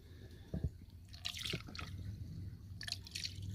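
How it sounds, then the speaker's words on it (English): Prestone 50/50 coolant is poured into the radiator of a 2003 Honda Civic, giving soft liquid dribbles, drips and gurgles at close range, quiet and intermittent. "So we'll fill the radiator back up"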